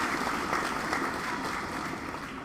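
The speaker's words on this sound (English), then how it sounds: "That deserves its own applause." An audience at a school extra-curricular awards ceremony applauds, a steady wash of clapping that fills the whole moment at an even, moderate level without any voices.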